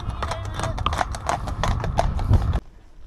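Hoofbeats from two riders' horses clip-clop steadily on a Cotswolds country lane, growing closer over a windy rush, then cutting off abruptly near the end.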